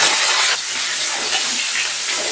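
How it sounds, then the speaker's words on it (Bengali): Peeled potatoes fry in plenty of mustard oil for a thin mutton curry, giving a loud, steady hiss and sizzle that runs unbroken close by. "আলুটা একটু ভেজে নেব লাল লাল করে"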